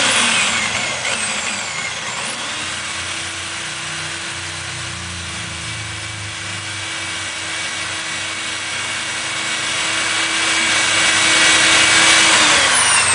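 A handheld power drill bores through glass with a grinding, rasping hiss, its motor pitch holding level then easing off near the end, close and loud.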